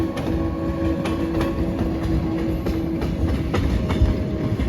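A new Karaganda–Moscow passenger train rolls through Astana-1 station without stopping, its carriages giving a loud, close, continuous rumble with a rhythmic clickety-clack of wheels over rail joints.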